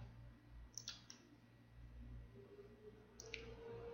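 A computer mouse clicks while running a FileZilla FTP server installer: a quick double click near the start and one more click later, faint over a steady low hum.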